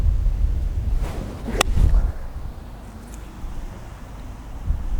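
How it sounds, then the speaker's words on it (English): Strong wind gusting across an open golf course, a continuous low buffeting roar on the microphone that swells and eases, with a brief sharp swish partway through and no talking. "We've got a hard wind off the left here"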